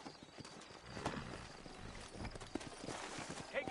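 Horse hooves clip-clop through a frontier town in the video game Red Dead Redemption, a steady run of hoofbeats with a few sharper strikes over a busy background.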